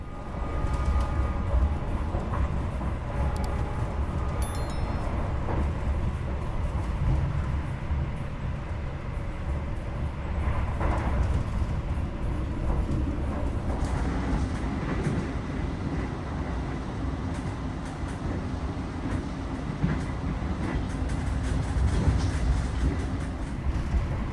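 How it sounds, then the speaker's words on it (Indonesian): Steady low rumble and rattle of the Gajayana New Generation executive passenger train riding along the rails, heard from inside the carriage, continuous and fairly loud throughout with no talk. "perjalanan naik kereta api Gajayana New Generation kali ini"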